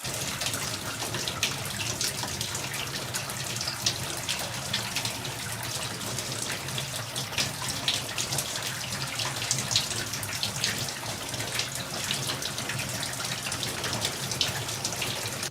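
Water runs continuously from a tap, a steady close splashing and gushing that holds at an even level throughout.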